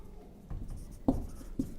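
Chalk or marker strikes a board during a Hindi-language chemistry lecture on the solid state, giving a few faint scratches and two sharper taps across a quiet room.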